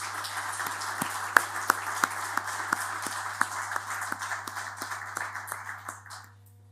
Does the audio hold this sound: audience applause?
yes